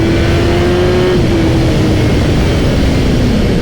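A BMW S1000R motorcycle engine drones loud and close, its steady pitch dropping briefly as a quickshifter clicks it up a gear without the throttle closing.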